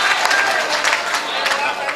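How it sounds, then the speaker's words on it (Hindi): A crowd at a mushaira applauds a poet with loud, dense, continuous clapping heard up close, with voices mixed into the noise. "एक बार तालियां बजा के बताइए कि हाशिम साहब को सुनना चाहते हैं आप।"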